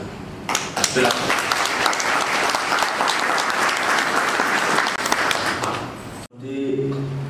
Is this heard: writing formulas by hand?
no